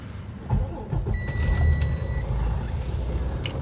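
A Detroit DD15 diesel in a 2009 Freightliner Cascadia truck starts with a brief cranking whir, then settles into a low steady idle rumble, close and loud, with faint keys jingling.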